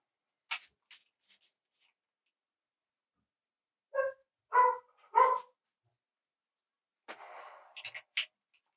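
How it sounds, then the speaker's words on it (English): Two dogs bark in short bursts in the background, a few scattered yips then a tight run of three barks and a couple more, fairly faint with silence between. "Two dogs barking in the background."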